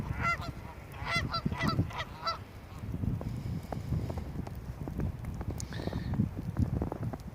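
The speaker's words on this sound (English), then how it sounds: "the geese are enjoying the weather more than I am, since it's very cold" A family of Canada geese honking in deep cold winter weather, a burst of repeated nasal honks near the start and a few scattered calls later over steady low outdoor rumble and wind.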